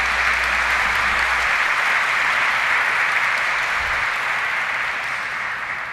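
A church congregation at a Catholic evening Mass bursts into sustained, dense applause. The clapping is loud and steady throughout and eases slightly near the end, with no voices over it.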